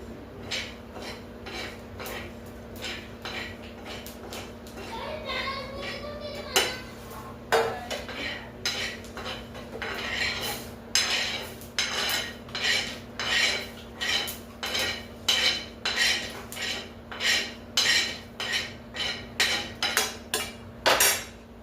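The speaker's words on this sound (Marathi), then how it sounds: "तवा गरम असल्यामुळे जवसही खूप लवकरात लवकर लाल झालेले आहे." Repeated scraping and clinking of a spatula stirring flax seeds roasting on a hot metal griddle, in steady rhythmic strokes growing more regular toward the end.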